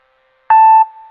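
A single loud electronic beep, a steady pure tone lasting under half a second, then fading into a softer lingering tone.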